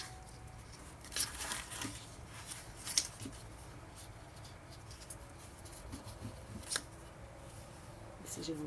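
A small paper notebook being folded inward during scrapbooking, with faint, soft paper rustles and a few brief crinkling snaps over a quiet room background.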